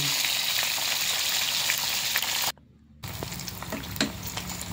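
Dried milkfish (bangus daing) frying in a pan, a continuous loud sizzle broken by a brief silent gap, then resuming with crackling pops.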